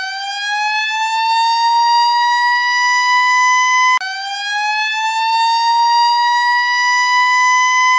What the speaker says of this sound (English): Red fire truck.